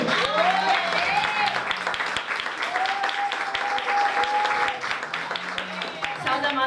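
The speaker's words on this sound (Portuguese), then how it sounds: "com as palmas para o Senhor" An evangelical Pentecostal church congregation claps for the Lord, a busy sustained patter of hands with sung or spoken voices and sharp accents woven through.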